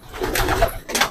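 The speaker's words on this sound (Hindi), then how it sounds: "तो ये है टोंक वाले कबूतर।" Tonk breed pigeons coo close by in a short burst of throaty, rolling calls, with a brief pause before another coo at the end.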